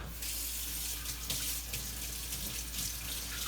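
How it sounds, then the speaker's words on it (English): Water runs steadily from a kitchen tap while food is rinsed under it during guacamole making, a continuous hiss and splash close by, with no talking. "Rinse this off."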